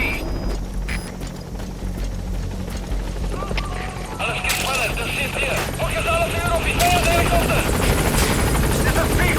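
Loud, continuous rotor and engine roar of the Pequod helicopter arriving at a landing zone in the video game Metal Gear Solid V, with whining tones rising and shifting above the steady thrum.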